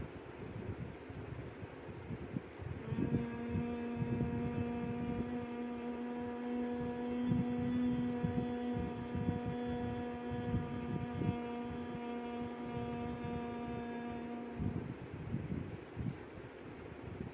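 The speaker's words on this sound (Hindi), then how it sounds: "सांस छोड़ने के साथ आपको हमिंग साउंड प्रोड्यूस करना है" A single person produces a long, steady, low hum lasting about twelve seconds, with soft breathy background noise before and after.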